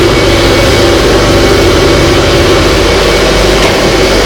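A Subaru Robin EH09 small petrol engine, the kind fitted to a rammer compactor, runs loud and steady up close, with a constant throbbing drone and no speech over it.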